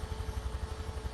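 A Huey helicopter landing in Microsoft Flight Simulator 2024, its rotor beating in a steady, fast, low chop at moderate volume with a faint engine whine, and no voices.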